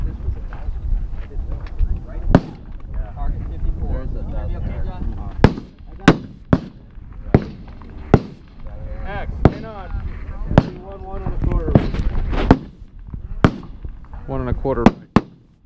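Rifle shots fired at a target 800 yards away at a long-range match, a dozen or so sharp loud cracks at irregular intervals over steady outdoor noise, with people talking between shots.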